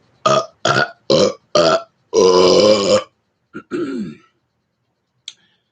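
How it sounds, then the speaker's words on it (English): One human burp is chopped into a series: four short, evenly spaced belches, then a longer rasping one, followed by two brief gurgling bursts and a tiny final croak, all loud and close. "Taking one burp and cutting it into multiple burps."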